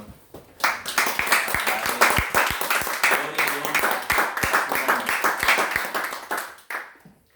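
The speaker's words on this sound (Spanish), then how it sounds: "Quiero pedirles si podemos dar una ofrenda de palmas al Señor." A church congregation claps in praise to the Lord: a dense, sustained run of many hands clapping together, loud and close, that swells and then tapers off toward the end.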